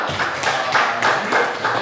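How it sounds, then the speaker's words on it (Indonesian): Students in a class clap their hands together in a quick, regular rhythm, about five bright bursts close by with short gaps between them. "Iya, tepuk tangan ya"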